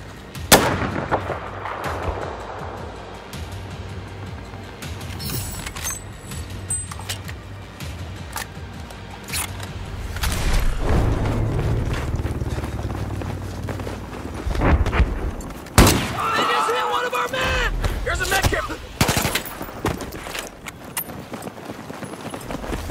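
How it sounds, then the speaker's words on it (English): Heavy gunfire in a multiplayer military shooter, with sustained bursts of automatic fire and booming artillery-like blasts, loud and dense throughout, sharp peaks near the middle. "Taking heavy fire!"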